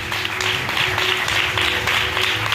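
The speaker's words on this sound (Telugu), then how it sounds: "give him a big hand" A church congregation applauding, heard as a steady, dense wash of clapping from many hands that holds at an even level throughout.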